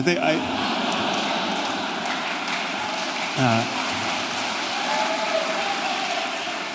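A live audience at a debate applauds. The clapping is a loud, dense, rain-like wash that holds steady for several seconds, with a voice speaking over it.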